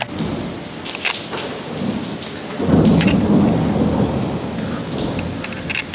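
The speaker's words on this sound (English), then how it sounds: "But it's raining, of course." Steady rain pours down in Korea with a low rumble of thunder rolling through the middle, no voices heard.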